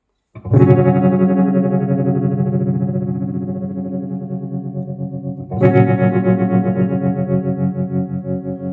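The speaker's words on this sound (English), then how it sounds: "can hear that characteristic tremolo effect" Two sustained guitar chords through a digital tremolo effect, each pulsing in volume with a steady wobble; the second, with a faster LFO, throbs faster and more deeply.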